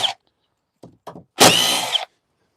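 A cordless battery drill drives screws into wood, close by: two short bursts, then a longer steady whir of about half a second, with no talking.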